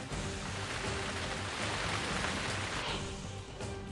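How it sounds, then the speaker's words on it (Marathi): Steady rain falls during a thunderstorm in Thane and Navi Mumbai, an even close hiss of downpour with no thunder or talk. "ठाणे आणि नवी मुंबईमध्ये विजांच्या कडकडाटासह पावसाची हजेरी"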